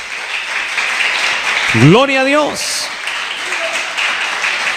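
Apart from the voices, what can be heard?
audience applause in church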